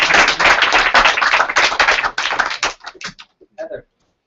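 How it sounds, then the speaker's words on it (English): A small group claps in a dense round of applause that holds for a couple of seconds, then thins into a few scattered, fading claps before stopping. "Good round of applause for working."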